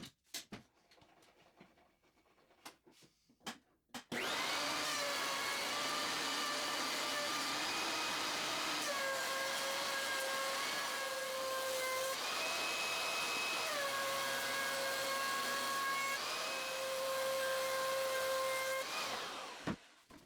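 A planer squares up glued-up 2x4 bench legs: a few quiet knocks come first, then a loud, steady roaring whine kicks in and holds with shifting tonal pitches before cutting off at the end.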